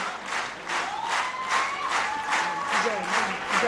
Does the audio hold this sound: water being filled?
no